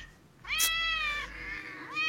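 A cat meows twice, a long drawn-out call followed by a shorter rising one, close and clear with no talking.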